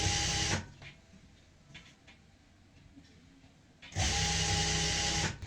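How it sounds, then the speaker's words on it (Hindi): An electric sewing machine stitches fabric for a circle palazzo, running in a loud, steady whirring burst at the start, going quiet for a few seconds, then starting again and running to the end. "यहाँ पे हम सिलाई लगाते चले जाएंगे"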